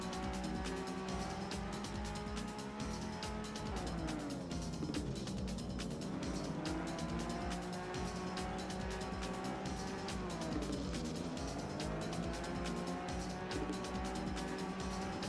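A race car in TrackMania Original drives continuously, its engine holding a loud, steady drone with rising and falling pitch sweeps as it shifts and corners. Tires squeal and skid along the way.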